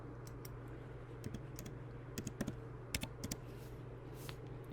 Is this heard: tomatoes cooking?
no